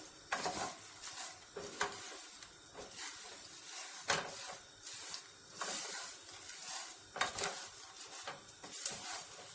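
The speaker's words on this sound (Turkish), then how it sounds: "Makarnamızı yakmadan kavuralım." Pasta sautés in a pan with faint sizzling under repeated stirring scrapes and occasional clinks, quiet and close.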